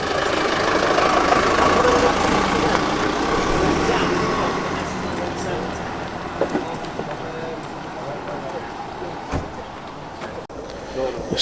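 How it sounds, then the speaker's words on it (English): Citroen Xantia engine idling steadily at a classic car meet, a continuous low rumble with background crowd chatter and faint outdoor noise throughout. "The Citroen Xantia."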